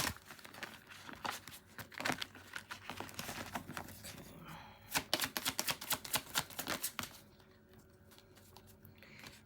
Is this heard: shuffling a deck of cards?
yes